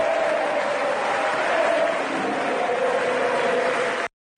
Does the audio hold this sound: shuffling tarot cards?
no